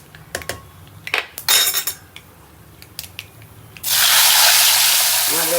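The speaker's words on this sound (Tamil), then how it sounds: "இப்போது கரைச்சி வச்சுருக்கிற புளி தண்ணியை இதில் விட போகிறோம்." Tamarind water is poured into a cooking pan during preparation of a traditional Tamil feast. A few utensil clinks and taps come first, then a sudden steady gush of liquid runs to the end.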